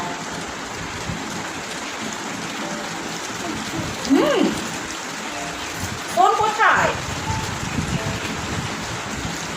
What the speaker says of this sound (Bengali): বৃষ্টি এসেছে